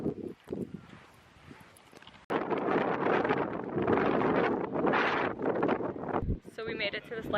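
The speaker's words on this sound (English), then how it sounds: "It's breezy." Gusty wind buffets the microphone at the Nantucket lighthouse, a loud, steady roar that fills most of the clip after a quieter start, with a voice talking over it.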